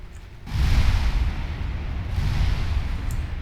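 Heavy shell impacts strike a warship in the naval game Ultimate Admiral Dreadnoughts, a deep booming hit followed by a second rumbling impact, with low thudding energy and a lingering roll.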